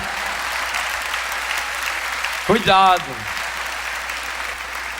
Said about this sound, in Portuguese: Esse aplauso de vocês, isso é uma coisa linda, isso é uma coisa maravilhosa.